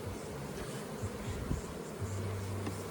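Honey bees swarm around an opened hive, giving a dense continuous buzz close by, with individual insects droning past and a steady low hum throughout.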